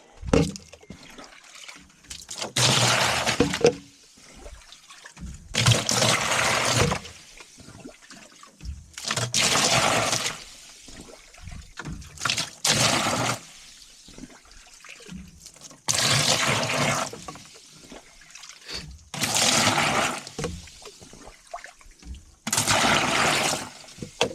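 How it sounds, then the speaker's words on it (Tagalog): Water poured in repeated bursts, roughly seven splashing pours of a few seconds each separated by quiet pauses, fairly close and alone. "Lagyan natin ang tubig."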